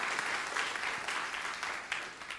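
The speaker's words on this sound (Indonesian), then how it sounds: "Tepuk tangan yang meriah untuk kemuliaan nama Tuhan" A church congregation claps enthusiastically in a dense, steady round of applause filling the room, with no voices standing out.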